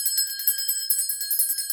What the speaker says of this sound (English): And I felt that we needed bells, just like churches have bells, and Tibetans use bells